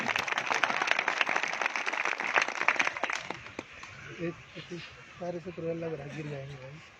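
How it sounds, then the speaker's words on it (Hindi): Crowd clapping at a Hindi political rally speech, a dense burst of applause for the first three seconds that fades out as a voice takes over, speaking over a quieter background. "ताली बजाओ"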